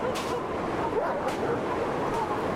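Three short dog barks in the video game The Long Dark, spaced about a second apart, somewhat distant, over a dense wash of wind-like background noise.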